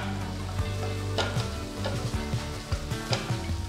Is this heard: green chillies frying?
yes